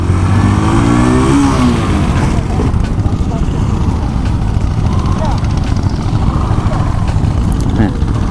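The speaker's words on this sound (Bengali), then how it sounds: "আর বাইক পার্ক করার নিয়ম হচ্ছে বার্ন আউট মেরে" Walton Terra 150 motorcycle doing a burnout on sand, its engine revving loud and close in a rising, roaring sweep that then settles into a sustained rough drone with gritty noise.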